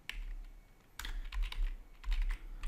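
Keys clatter on a computer keyboard while DNS addresses are typed into Windows 11 network settings, giving quick bursts of light, close clicks separated by short pauses.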